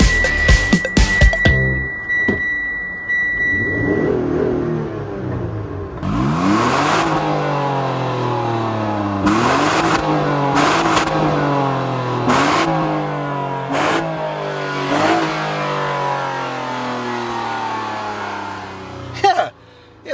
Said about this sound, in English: It likes to rev.